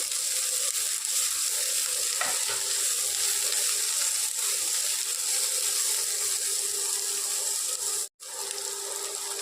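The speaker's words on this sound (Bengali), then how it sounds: "কাঁচা লঙ্কা কুচি সব কিছু ভালো করে একটু লাল লাল করে ভাজতে হবে" Chopped green chillies and onion fry in a pan, a steady, close hiss of sizzling oil that runs unbroken, with a couple of faint clicks and one brief drop near the end.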